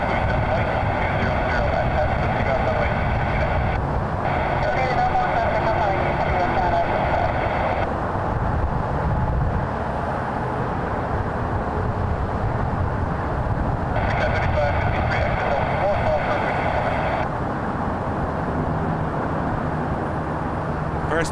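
An Airbus A380 airliner at Toronto Pearson airport gives off a sustained roar with a whining engine tone that rises and falls over about twenty seconds, all smeared by gusts of wind on the microphone.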